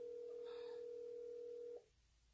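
A single steady dialing tone of an outgoing video call drones clearly for nearly two seconds, then cuts off, leaving a faint background hiss.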